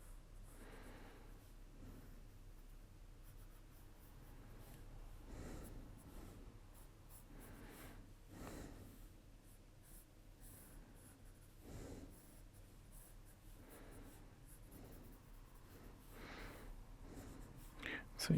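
Soft scratching of a pencil sketching on paper, with a slightly blunt graphite tip, comes in repeated short strokes and scribbles, quiet and close, over a faint background hiss.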